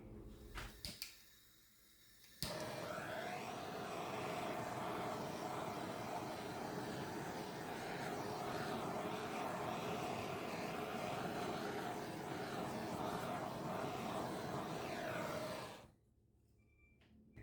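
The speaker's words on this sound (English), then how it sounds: "grab my torch and see if that helps bring any of the other colors through" A handheld torch plays its flame over poured acrylic paint in a split-cup fluid painting, giving a steady, close roaring hiss for about thirteen seconds after a few faint clicks, with no talk.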